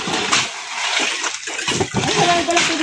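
Water splashes and sloshes in short irregular bursts close by on a countryside farm house work site, with a little background noise and no clear talk.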